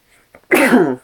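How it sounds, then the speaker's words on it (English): One sharp sneeze bursts out after a short inhaled breath, loud and close, ending abruptly. "I just had to sneeze right there"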